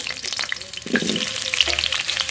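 Potatoes frying in hot mustard oil in a kadai, a steady close sizzle with scraping stir sounds partway through, no talk.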